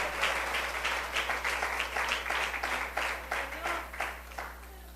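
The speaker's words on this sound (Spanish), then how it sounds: "Dale fuertes aplausos al Señor" Church congregation clapping loudly at a pastor's urging, a dense rhythmic patter of many hands over a steady low hum, with voices mixed in beneath.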